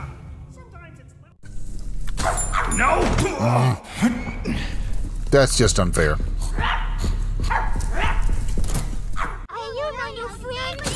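A dog barks and yips in the survival horror video game My Friendly Neighborhood, short repeated barks close by, heard under a player's talking and game sounds.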